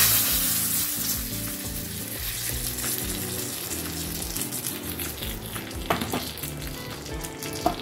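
A hot tempering of mustard seeds and dry red chilies in oil is poured into sour green mango dal, bursting into a loud, dense sizzle that crackles continuously up close throughout.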